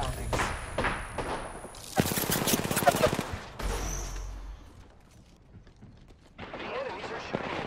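Enemy gunfire in the Apex Legends video game comes in loud, rapid automatic bursts. A heavy thud breaks them up, then a quieter lull follows before another volley starts.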